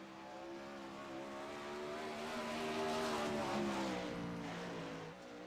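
Wingless 360 sprint car on a dirt track, engine roaring steadily at high revs as it laps, the tone rising and swelling toward the middle, then dipping briefly near the end; no talk.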